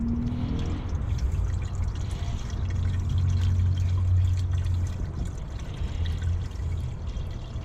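Windshield washer fluid glugs and trickles steadily from a jug into a car's reservoir, a close, continuous pour lasting several seconds with no talking.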